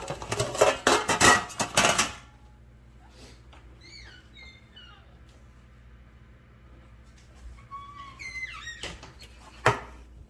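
A metal cake pan clatters and rattles in a home kitchen while a Southern-style German chocolate cake is being prepared, with several loud, close clanks at the start, then quieter scraping and a final sharp knock.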